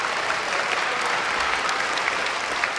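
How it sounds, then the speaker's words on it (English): A crowd at a Lowell National Historical Park quarter launch ceremony claps steadily, a dense, continuous round of applause heard alone at even loudness for its short length. "Give Andrew a round of applause as well"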